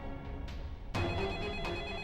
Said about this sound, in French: Pourquoi le téléphone sonne encore si tôt le matin?